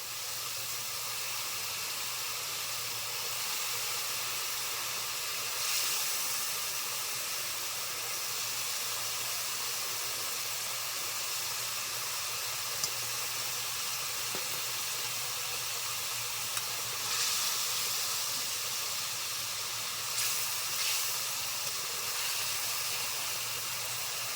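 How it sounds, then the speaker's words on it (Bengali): Fried pangas fish goes into a pan of thickened Bangladeshi-style masala. A steady, moderately loud hiss of sizzling and steam runs throughout, with a few soft stirring scrapes and no talk. "আর এখন দিয়ে দিচ্ছি এই ভেজে রাখা পাঙাশ মাছ।"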